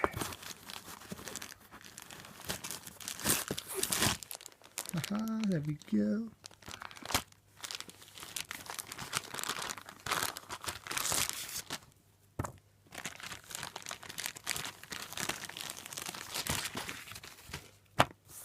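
Paper crinkles and tears in bursts as it is pulled away from a new Gibson Les Paul Studio gig bag during an unboxing, close and fairly loud, with someone talking over much of it.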